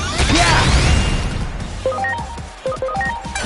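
Catastrophe Cannon attack in Digimon Story Time Stranger, a loud blasting whoosh and crash at the start followed by a rapid run of sharp electronic impact hits and clicks.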